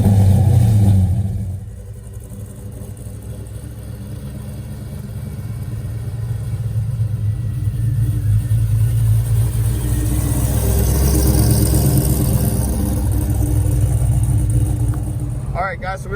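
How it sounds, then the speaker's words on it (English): Steady engine rumble from a 750-horsepower supercharged LSA V8 in a square body Chevy truck, running continuously at a moderate level and swelling slightly toward the end, with people talking over it. "having a 750 horsepower LSA supercharged engine inside of their"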